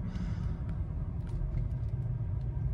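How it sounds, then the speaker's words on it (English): Volvo XC70 fitted with a V8 engine, heard as a steady low rumble while the car runs, moderately loud and continuous with no talking. "that's the V8"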